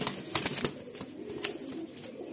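Rampuri pigeons held by a Kolkata breeder flap their wings in a few quick bursts, with soft cooing between them, close and fairly quiet.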